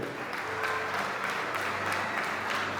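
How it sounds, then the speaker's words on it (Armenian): Guests at a wedding applaud the couple's parents, loud, dense clapping from a crowd that holds steady throughout with no pause. "ջերմ ու բարձր ծափանենք մեր ամենաերջանիկ ծնողներին"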